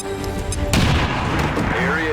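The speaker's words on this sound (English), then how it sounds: "Throwing grenade." A thrown grenade in the XCOM 2 strategy game bursts with a sudden loud boom that decays into crackling debris and rumble, following a brief stretch of game ambience.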